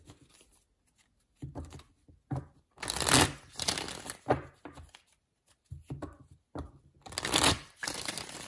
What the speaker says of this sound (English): each time I've shuffled these cards